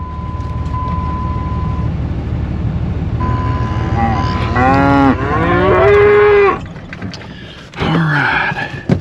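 Registered Gelbvieh cattle moo loudly and up close on a farm, several drawn-out calls overlapping one another, with a steady engine rumble beneath and a brief gap before a final bellow.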